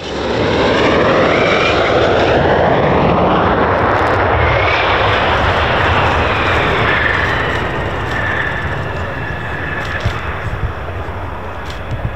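An F-15 fighter jet making an emergency landing after a hydraulics failure, a loud sustained engine roar with a sweeping whine that dominates throughout and eases slightly toward the end.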